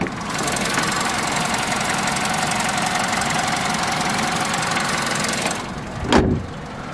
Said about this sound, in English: Lovely sounding engine.